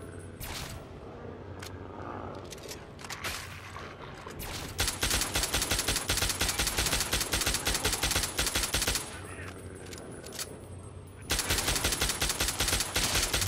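Rapid bursts of plasma rifle fire in Fallout 3, sustained stuttering volleys that start and stop in loud stretches, with faint talk in quieter gaps.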